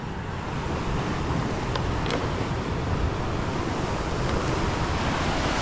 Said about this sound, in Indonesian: Tengok dia punya ombak.